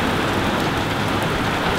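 Heavy rain pours steadily outside a garage, a dense, continuous hiss and patter close by with no pauses, filling the whole moment without any voices.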